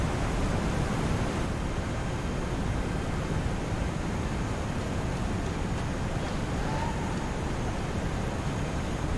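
Broad, steady rush of falling water near the Druid Temple in Guild Wars, a constant dense roar filling the whole scene without pause, close and loud with no voices over it.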